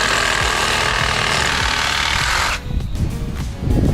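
A hand saw rips through a length of firewood on a wood-splitter sawhorse, a fast, loud rhythmic rasp of strokes that stops abruptly, followed by a few lighter scrapes and knocks.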